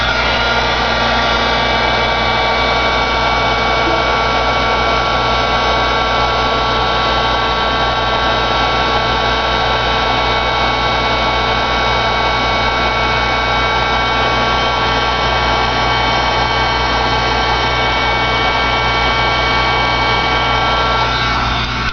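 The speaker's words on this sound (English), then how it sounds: "now let's emboss with my heat gun." A heat gun blows in a constant, loud roar with a steady whine while embossing ink on a card. It runs unbroken and alone, with no talk.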